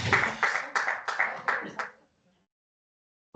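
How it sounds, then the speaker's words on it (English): An audience at a Kansas City HLC quarterly meeting applauds in a short burst of loud, rhythmic clapping that fades out within two seconds, followed by silence. "let's give one more active applause to Dr."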